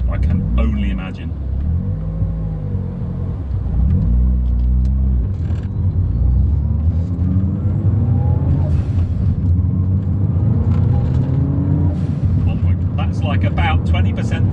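A 400bhp R56 Mini engine pulls hard on the road, with a loud, continuous low rumble and rising and falling rev sweeps heard from close by inside the car.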